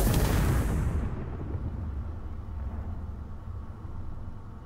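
A weapon fires at ablative armor in the video game Space Engineers, giving one loud, sharp impact blast at the start that fades into a long rumbling tail and low background hum.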